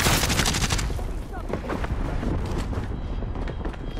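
Heavy gunfire on a rooftop in Call of Duty: Modern Warfare, dense overlapping shots and bursts with a loud, continuous battle din throughout.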